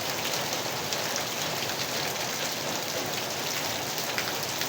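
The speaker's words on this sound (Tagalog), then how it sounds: "Ayan, ang lakas ng ulan." Heavy rain pours steadily and densely onto surfaces, a loud continuous wash of drops with no pauses.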